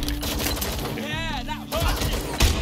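Bursts of gunfire from the video game Watch Dogs: Legion rattle steadily through a busy in-game soundscape, loud and close, with a voice briefly heard amid the shooting.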